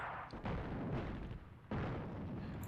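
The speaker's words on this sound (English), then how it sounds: "Did you not start that barrage?" Artillery barrage in the North Africa war game Attack at Dawn: heavy, continuous low rumbling booms rolling on without a break, with a fresh loud blast hitting midway and the roar sustaining close and dense throughout.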